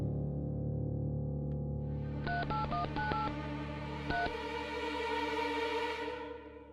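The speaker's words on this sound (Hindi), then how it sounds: "उन्हें फोन लगाना चाहूंगा इलाहाबाद।" A run of quick touch-tone beeps as a phone number is dialed, followed after a pause by one more tone, over a steady background hum.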